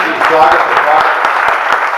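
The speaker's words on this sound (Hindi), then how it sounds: "एक बार तालियां बजाकर" An audience at a Hindi comic poetry recital claps in a steady, fairly loud wash, with distinct individual claps standing out. A voice seems to carry on over the clapping throughout.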